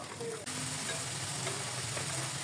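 Bakery-style Bangladeshi nimki fry in hot oil over a high flame, giving a quiet, continuous sizzle with faint bubbling throughout.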